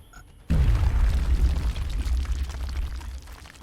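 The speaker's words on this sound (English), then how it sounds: "Throwing grenade." A grenade detonates in the turn-based strategy game XCOM Enemy Within: a sudden loud boom after a brief quiet moment, followed by a heavy rumbling roar that slowly fades over a few seconds.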